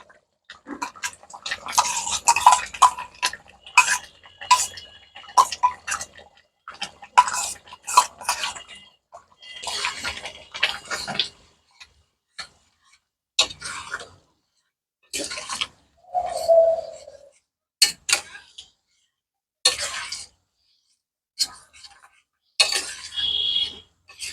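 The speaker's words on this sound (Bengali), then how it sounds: "এই যে টক দইয়ের মধ্যে পুরো মশলাটা দিয়ে ভালো করে মিশিয়ে নেব" Spices are stirred into sour yogurt in a bowl as part of making mutton rogan josh, with repeated close wet squelches and spoon clinks in uneven bursts separated by pauses.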